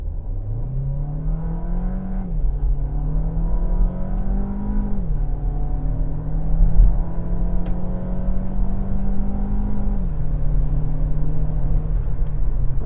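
A Renault Kadjar 1.3 TCe engine running on a Prins VSI-3 LPG conversion revs steadily during a performance test, rising and holding in several long pulls with brief dips between, close and loud with no talk.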